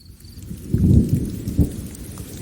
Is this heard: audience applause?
no